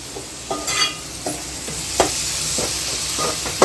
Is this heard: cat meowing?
no